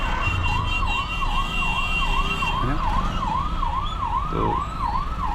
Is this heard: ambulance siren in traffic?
yes